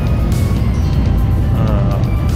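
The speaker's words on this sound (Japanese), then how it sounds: "今追い越していく車もえっとおるよね" A car overtakes on an open rural road in Hokkaido, heard from inside a moving vehicle as a steady broadband road and engine rumble that swells slightly as it passes, with no talk.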